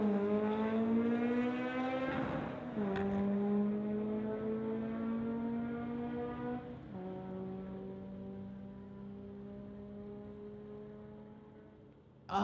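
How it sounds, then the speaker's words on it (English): A BMW and a Volkswagen street car launching side by side in a drag race, engines revving high and shifting through gears in a loud droning wail that steps down as each car pulls away. "BMW in the spectator lane going against Kevin in the Volkswagen."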